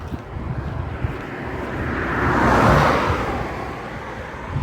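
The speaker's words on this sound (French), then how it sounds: "Voiture." A car passes on a country road in the Béarn, its tyre and engine roar swelling from a distant rush to a close peak and then fading away, with wind buffeting the microphone.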